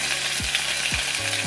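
Sardines fry in a pan with a dense, close sizzle and several scraping stir strokes repeating through it, and no one speaks.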